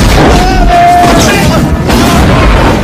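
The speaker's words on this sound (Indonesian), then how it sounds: "seluruh penelitiannya terbakar hangus meledak sampai ke ujung-ujungnya" An explosion in a 1998 Jackie Chan action film: a very loud, sustained booming roar with crashing debris that holds nearly the whole stretch before easing off.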